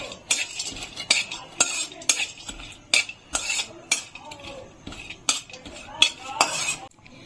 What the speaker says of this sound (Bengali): এখন আমি কয়েকটা চাল মগজ আর কয়েকটা কাজু গুঁড়ো করে নিয়েছি, এটাকে আমি একটু ভেজে নেব